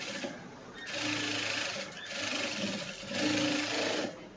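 Sewing machine stitching a lined blouse, a steady close whirring run broken by a few brief pauses in the rhythm.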